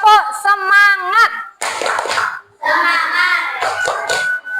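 A fifth-grade class in Indonesia does a rhythmic tepuk semangat clapping chant. A high adult voice leads with sung calls, then bursts of hand claps and children's voices answer in a lively pattern.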